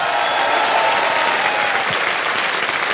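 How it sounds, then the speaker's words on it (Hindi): An audience in a quiz show studio claps, with dense, sustained applause from a sizeable crowd that is loud and continuous from start to finish. "तालियां बजती रहें इनके लिए।"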